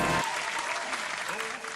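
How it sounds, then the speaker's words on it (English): A round of applause from a gaming show audience, dense steady clapping that carries on for nearly two seconds after a brief loud burst at the start. "So let's give them a round of applause for that."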